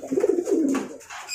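A small Javana pigeon gives a low, close cooing call that rises and falls for about a second, with faint background noise behind it.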